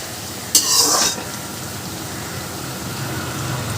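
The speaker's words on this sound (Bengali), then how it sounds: "এবার আমি উচ্ছেগুলোকে ভালো করে ভেজে নেব।" Bitter gourd slices fry in oil in a pan, giving a constant hissing sizzle with one brief louder burst of spatter or stirring near the start.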